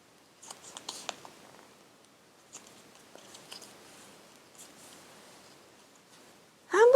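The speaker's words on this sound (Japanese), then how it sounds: "細長い黒い紙を縦に細長く半分に折ります。" A long, thin strip of black paper is folded lengthwise in half while making a paper watermelon craft. Soft, sparse, close rustles and creasing taps are heard, with a brief louder swish of paper at the very end.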